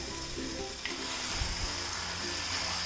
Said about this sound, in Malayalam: ഈ ചിക്കൻ പീസസ് ഇതിലേക്ക് ഇട്ടിട്ട് ഇളക്കി കൊടുക്കാം.